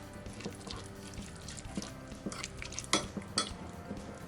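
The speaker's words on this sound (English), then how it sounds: "put 2/3 of this vegetable, oka hijiki, and mix" Oka hijiki greens are stirred with soy sauce and tuna mayo in a bowl, soft wet stirring with occasional light clinks of utensil on dish, quiet and close.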